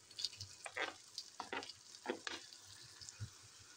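Chopped okra frying in a pan with onion, garlic and ginger, a faint close sizzle broken by soft stirring scrapes at an irregular pace.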